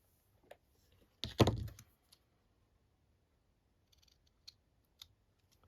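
Scissors cutting a strip of material for a journal: one short, close crunching snip, followed by a few faint scattered clicks in near silence.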